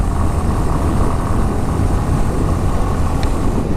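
Honda H'ness CB350 motorcycle engine pulling hard through the gears, a loud, steady broadband roar with dense low rumble and wind rush, continuous and close throughout without speech.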